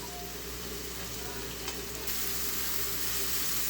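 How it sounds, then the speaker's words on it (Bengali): Onions sizzle and fry steadily in hot oil in a pan, cooked for a shidol bhorta, making a continuous, close hiss that grows slightly brighter partway through, with no talking. "পেঁয়াজটা এমনভাবে ভাজতে হবে যেন খুব বেশি ভাজা ভাজাও করা যাবে না"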